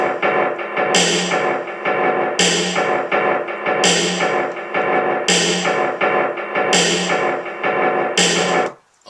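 Two layered snares play together in a beat, one filtered and one with reverb that gives a sharp, snappy crack on alternating hits, repeating loudly in a steady rhythm before the loop stops abruptly.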